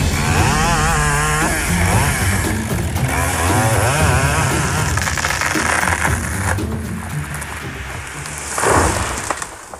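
A Husqvarna 572XP chainsaw felling timber in a Canadian forest, its engine snarling loud and continuous, pitch shifting as it bites through the wood, with a surge near the end.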